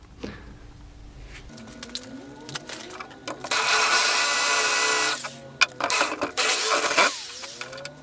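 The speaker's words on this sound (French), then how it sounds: "Donc voilà, je vais percer ma caisse." An electric drill bores into a wooden crate. After a few quiet clicks and handling noises, the motor whines up loudly, holds for nearly two seconds, then stops and restarts in a second burst close by.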